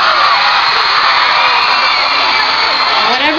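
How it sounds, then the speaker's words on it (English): A crowd of fans screams loudly and continuously at a live SUJU-M introduction appearance, a dense, sustained wall of high-pitched cheering and whooping that swamps everything else. "Whatever we do, they scream."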